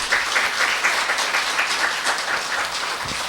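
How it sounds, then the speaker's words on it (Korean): A church congregation claps in encouragement for newly elected leaders, a steady, fairly loud patter of many hands lasting the whole stretch. "격려 박수 한번 해주시기 바랍니다"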